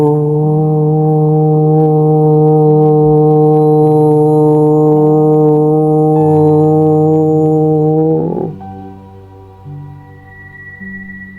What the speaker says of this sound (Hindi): 3 बार हम ओम की ध्वनि करेंगे।